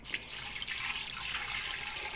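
Water runs steadily for a couple of seconds, a close, hissing pour into a pot of cooking beef skin with star anise, with no talking.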